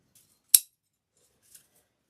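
Scissors trimming an old wreath base make one crisp, sharp snip, then a much fainter snip a second later, in a quiet room.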